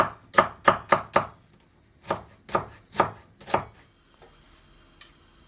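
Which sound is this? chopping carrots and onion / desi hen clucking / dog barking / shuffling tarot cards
chopping carrots and onion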